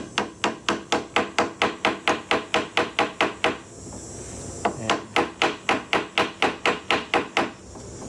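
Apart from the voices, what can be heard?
hammering a nail into an oak chair rung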